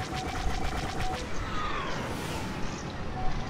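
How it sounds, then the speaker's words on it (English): Star Wars Battlefront space combat with TIE fighters, heard as dense, continuous blaster fire and rumbling booms. A steady engine-like whine sits underneath the rapid popping, and there is no clear talk. "That was a big explosion."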